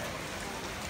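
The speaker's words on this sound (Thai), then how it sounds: "โอ้โหฝนก็ตกมาแล้ว" Rain pouring down outdoors at a Pali exam venue at a temple in Kumphawapi, Udon Thani, a steady dense hiss with no clear breaks, heard briefly and fairly close.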